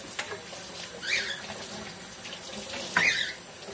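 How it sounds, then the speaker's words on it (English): Hands are washed under a running kitchen tap, a steady close water stream with a couple of brief louder splashes as the hands move through it. "Oh, I have to wash my hands."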